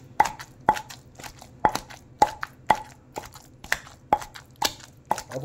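Onions being pounded into a mint chutney in a stone mortar give a steady rhythm of about ten sharp, close thuds, evenly spaced and loud, with nothing else heard.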